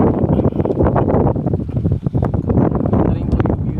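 Strong, constant wind buffets the microphone at a beach, a loud roaring rush that fills the whole moment.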